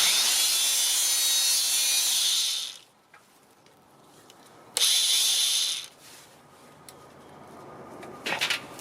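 An Anbull 900-watt rebar cutter works on metal tubing: a loud electric motor whine runs for nearly three seconds, drops away, returns for a second burst, then stops. Short knocks and clunks follow at the end.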